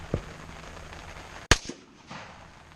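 A .30 caliber rifle fires a single sharp, loud shot with a brief echoing tail, set against outdoor background noise with a fainter thump or two afterward.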